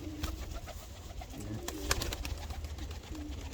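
Pigeons just released from a shipping box coo and call in a steady low murmur, with scattered rustles and wing flutters close by and no talk.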